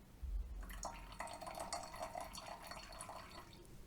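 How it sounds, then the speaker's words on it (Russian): Water drips falling from the spout of a Timemore FISH Smart 800ml pour-over kettle, a close, steady patter of small splashes running through the whole stretch with no talking. "постоянно капли будут падать вниз"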